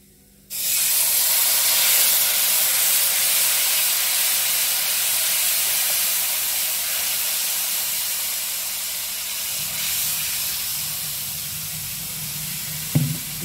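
Spices tipped into hot oil in a pan over a low gas flame for chana chaat burst into a loud, steady sizzle that holds for the whole stretch, with a brief clatter near the end.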